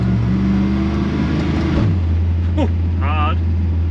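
A turbocharged LS-swapped Holden Kingswood pulls under acceleration, its engine note climbing and then dropping as it shifts gear, with people talking inside the car over the drone.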